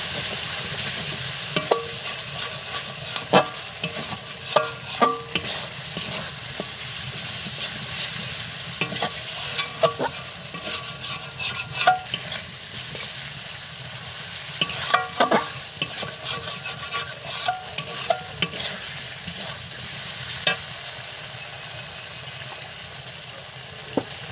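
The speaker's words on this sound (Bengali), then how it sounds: "এবার দেবো শুকনো লঙ্কা বাটা। এবার এটাকে ভালো করে মশলাটাকে কষিয়ে নেব।" A spice paste with dried red chili paste sizzles in a little oil while it is stirred and scraped around the pan, with frequent uneven clatters and scrapes over a continuous fry hiss, close and clear, with no one talking.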